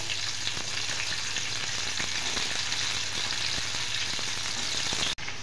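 Chopped carrots, green chillies, beans and onions fry steadily in a pan for veg biryani, a dense, even sizzle that holds constant and close, with faint stirring clicks and a brief cut near the end.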